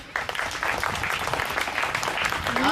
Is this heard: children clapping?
yes